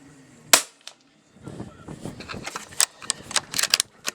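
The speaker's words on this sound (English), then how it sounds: "This will be shot number 6." A Hatsan BT65 .357 Carnivore PCP air rifle fires a single loud, sharp report near the start, followed by a brief softer click, then scattered handling clatter and faint background noise.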